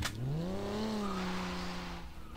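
A Ferrari skids in Garry's Mod, its tires letting out one loud, sustained squeal that bends upward and then slowly falls away over a steady engine drone, heard up close with no talk.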